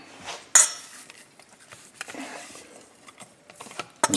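A fork mixing pork shoulder stew in a pot gives a sharp metallic clink near the start and another near the end, with softer scraping and stirring taps in between, close and fairly quiet.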